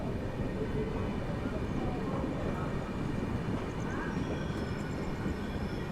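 A train pulls into Jalgaon Junction railway station in Maharashtra, a steady low rumble and rolling noise filling the platform continuously, with no distinct horn or voices standing out.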